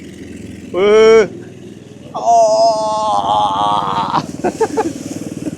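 A mini American army jeep's engine whines and rises in pitch in short surges as it climbs an incline, with a brief voice exclamation over it.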